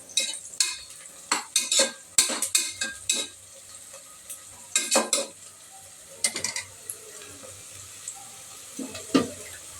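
Onions frying in a pan for a star-hotel-style mutton dish, with repeated scraping stirs and clinks of a spoon against the pan over a steady sizzle, close and fairly loud, no talking.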